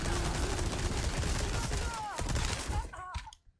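SMG fire in Resident Evil 4, a fast rattling burst of shots at close range amid crunching impacts, thinning out and fading to silence at the end.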